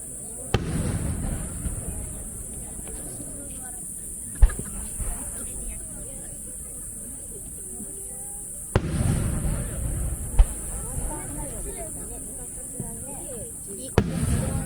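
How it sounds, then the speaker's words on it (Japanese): Fireworks burst at the Mino fireworks festival in 2023, several deep booming explosions spaced a few seconds apart over the steady chatter of a nearby crowd. "色がね、おしゃれな花火っていうか、こういうのなんかね、なんかすごい。"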